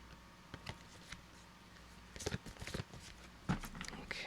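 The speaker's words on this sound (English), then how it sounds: "I gotta shuffle them again." Angel oracle cards being shuffled by hand: soft, quiet riffling and patting with a few louder bursts of shuffling toward the end, under a faint room background.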